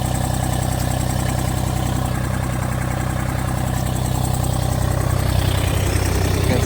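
A tractor engine runs at a steady idle close by, a continuous low rumble that holds even throughout with no revving.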